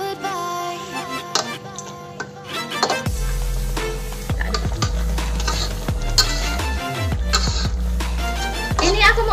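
Chili and spring onion are stirred in a sizzling frying pan for an Indonesian Betawi-style fish pesmol, with loud continuous frying and the scrape of a utensil against the pan while a person talks.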